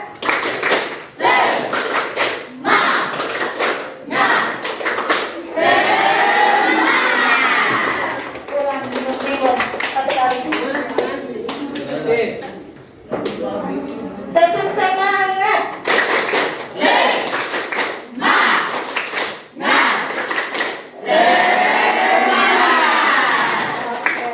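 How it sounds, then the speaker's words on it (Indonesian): Classroom of pupils doing a tepuk semangat chant, rhythmic bursts of group clapping alternating with children's loud chanted voices and shouting, lively and close. "ya kita akan ice breaking, tepuk semangat dulu."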